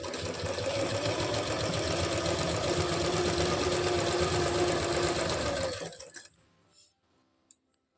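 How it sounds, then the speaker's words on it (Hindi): Electric sewing machine running a continuous stitch along the edge to attach elastic to palazzo pants, a loud steady whirring hum for about six seconds that stops abruptly, leaving near silence with a faint click. "ये देखिएगा मैं बिल्कुल किनारे किनारे ही सिलाई लगा रही हूँ।"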